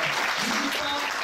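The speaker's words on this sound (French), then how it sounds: "je pense qu'elle mérite le triple d'applaudissements" Audience applause at a comedy show, a brief dense patter of clapping with voices mixed in throughout.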